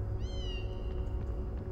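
A kitten in the Harry Potter and the Sorcerer's Stone video game lets out a single thin, rising meow while being chased by rats, heard clearly over a steady game background hum and low rumble.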